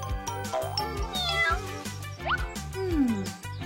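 A tiny cartoon kitten meows several times in quick succession, high rising and falling cries over a bouncy musical backing, close and clear.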